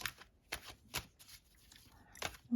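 Tarot cards are shuffled by hand for a ten-card Celtic cross spread. Crisp riffling bursts come in quick succession, close and quiet, with brief pauses in between and no talking.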